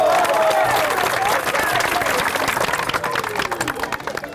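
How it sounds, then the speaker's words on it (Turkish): Guests at a wedding welcome celebration applaud the bride and groom, a loud, dense wash of clapping that holds steady, then loosens into more distinct, uneven claps toward the end. "bu güzel gelinime, bu güzel damadıma ve bu muazzam mahalleye gelsin bütün alkışlar"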